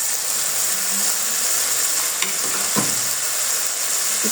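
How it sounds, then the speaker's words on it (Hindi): Onions frying in a pan for a fish curry, a loud, dense, steady sizzle with a couple of brief knocks from stirring, no speech. "ताकि ये प्याज जो है वो अच्छे से फ्राई हो जाए थोड़ा"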